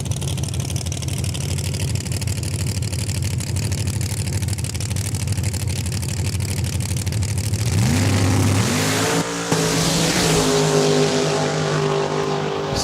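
A Camaro drag race car idles with a loud, rough rumble, then launches and revs hard, its engine pitch climbing in quick shifts as it accelerates away down the strip.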